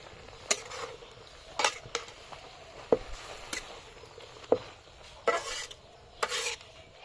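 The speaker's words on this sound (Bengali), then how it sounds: "শাকটা নেড়ে দেই" Mixed leafy greens stirred in a water-filled wok over a fire, giving soft, scattered scrapes and clinks of a utensil against the pan, roughly seven or eight separate strokes, fairly quiet with no talking.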